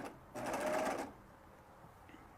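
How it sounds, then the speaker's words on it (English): A serger sewing machine stitching fabric to make decorative ribbon runs in one short, loud burst of about three-quarters of a second, then stops, leaving quiet room tone. "I'm going to put my presser foot down, start sewing a little bit"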